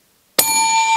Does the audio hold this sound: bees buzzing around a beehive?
no